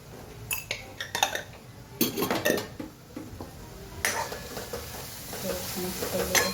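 A spoon stirs spices such as coriander-cumin, turmeric, Kashmiri chili and salt into sautéed onions in a pan, with repeated metal clinks and scrapes over a continuous close sizzle.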